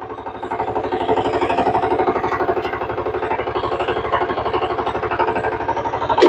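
A power tiller with rotor blades fitted runs with a steady, rapid thumping single-cylinder beat, close and fairly loud, with no talking.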